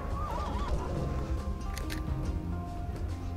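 A horse in the video game Conan Exiles gives a wavering whinny near the start, followed by soft hoof clip-clops, set against a low, busy game background.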